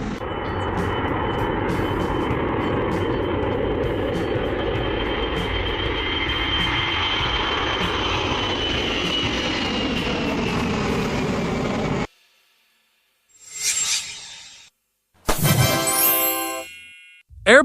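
Ilyushin IL-96-300 airliner engines roar in a broad, steady drone with a faint rising whine for about twelve seconds and then cut off abruptly. After a silence come a couple of short, sharp metallic bursts.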